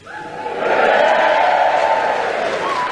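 A Yorkshire theatre audience at Harrogate Theatre cheers and whoops, swelling quickly into a loud, sustained roar of crowd noise that holds steady throughout.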